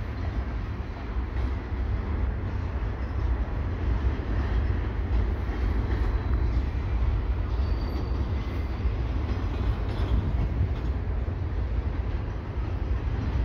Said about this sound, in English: And the train is picking up.